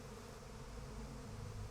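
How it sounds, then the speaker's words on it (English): Bees buzzing in the video game Psychonauts 2, a continuous low droning hum that holds steady throughout, quiet but unbroken and with no voices over it. "capture the bees again?"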